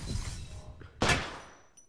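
Gunfire in the video game Apex Legends: a single sharp loud burst near the middle, over a low rumbling game background, fading afterward with a faint click near the end.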